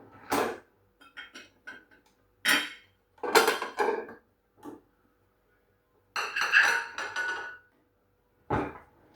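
A utensil cuts into homemade flan on a dish, making a few separate clinks and scrapes of metal against the plate with short pauses between them.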